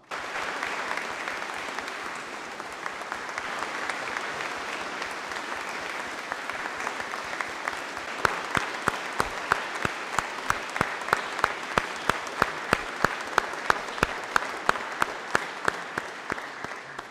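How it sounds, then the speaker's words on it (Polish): A church congregation applauds at a farewell for a parish priest. The clapping is loud and sustained for about seventeen seconds, with sharper individual claps standing out as it goes on. "naprawdę zasługują na gromkie brawa"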